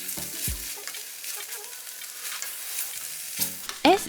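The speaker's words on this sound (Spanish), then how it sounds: "comenzamos a agregar el resto de los vegetales y dejamos cocinar durante 1 minuto" Vegetables stir-fry in a wok for shrimp pad thai, giving a loud, close, steady frying hiss with a few utensil clanks at the start and end.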